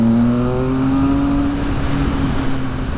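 A 2020 Triumph Speed Triple RS motorcycle accelerating hard, its engine note rising in one loud, continuous rev close by with a smooth climbing pitch.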